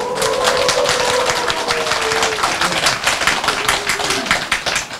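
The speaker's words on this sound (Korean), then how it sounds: "여러분 함성과 박수 한번 보내주시겠습니까?" A studio audience at a live author book-talk broadcast claps steadily, with a dense, sustained patter of hands and some faint cheering voices mixed in.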